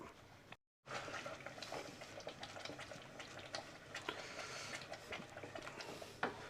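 Stirring a banana and jaggery mixture in a pan over a medium flame for halwa, a soft continuous scraping and sizzling texture with faint clicks of the spoon, quiet and steady throughout.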